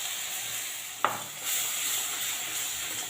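Tomato paste hitting a pan of fried ginger, onion and garlic, with a sharp clack at the start and then a steady, soft sizzle that swells slightly and holds close by.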